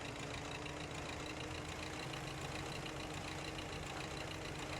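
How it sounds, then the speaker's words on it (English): A tractor engine in Farming Simulator 15 drones at a steady idle-like hum, a constant, even rumble with no change in pace and no voices over it. "So we'll do a little bit of driving. I just like this tractor."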